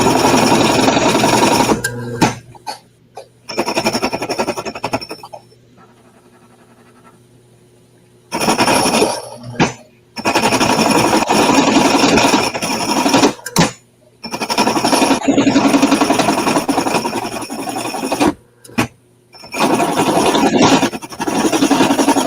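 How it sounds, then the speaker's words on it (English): Hole saw grinding into metal for K24 MGB engine mounts, loud harsh chattering bursts of drilling broken by pauses, with one long gap of near silence midway. "There's going to be nothing left of this hole saw."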